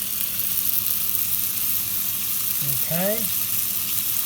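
Cajun chicken fries in a pan with a loud, steady sizzle throughout, close up. A voice briefly speaks over it.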